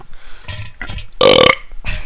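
One loud, deep, drawn-out burp erupts in the middle, framed by a few softer gulping throat sounds before and after; nobody talks.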